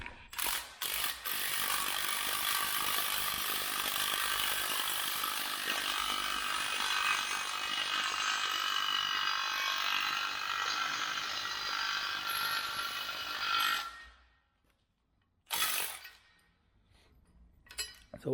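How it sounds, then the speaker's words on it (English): An impact driver rattles and hammers steadily as it drives a new bushing into a mini excavator, a long continuous burst that cuts out and then gives one short final burst. "the impact driver we will drive this bushing in here"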